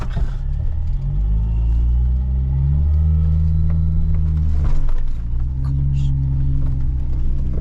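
A Jeep engine revs and rumbles loud and close as it pulls up, its pitch rising and falling in smooth swells with a brief dip midway, while a person talks over it.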